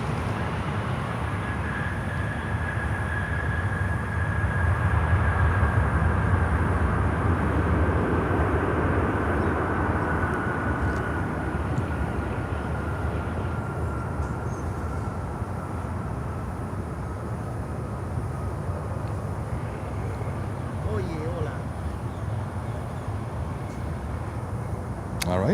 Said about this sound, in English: And we have a 777-300 from London Heathrow, American Airlines coming in.